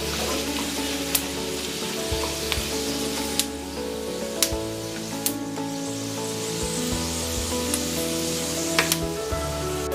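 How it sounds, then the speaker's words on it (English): Bay leaves and masala spices sizzle and fry steadily in hot oil for a laphing chili sauce, a continuous close crackle with occasional sharp pops and faint stirring, no talking. "Next, I'm going to add some bay leaves and fry for a couple minutes."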